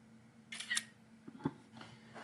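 A camera shutter clicks once, crisp and close, followed by a couple of softer handling clicks and rustles in a quiet room.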